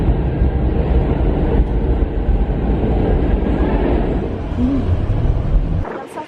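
New York subway train underway: a loud, steady rumble and rattle of the cars rolling on the tracks fills the whole stretch, close and continuous, easing off right at the end.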